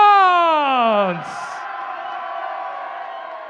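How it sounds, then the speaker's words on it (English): A large event crowd cheers for the French competitors at the IAMI Warriors Final 2023. A loud, sustained whoop from one voice falls away into a steady roar of cheering. "The biggest cheer so far for France."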